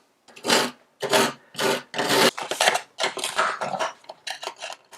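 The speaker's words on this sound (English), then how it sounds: "scraping out all of the grout lines to make sure that they are all clear and ready to go" Scraping out grout lines between tiles for a kitchen backsplash, a series of close, gritty rasping strokes in irregular bursts separated by brief pauses, with no talking.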